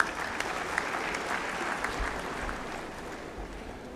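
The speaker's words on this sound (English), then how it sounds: "So they require a big round of applause." Applause from the audience at an international physiotherapy conference in Mangalore, a steady crowd clapping that holds at moderate volume through the whole stretch, with a faint voice now and then beneath it.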